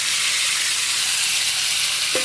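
Spiced mutton hits hot oil in a pan, a loud continuous sizzle and hiss of frying meat with a faint clink of the utensil near the end.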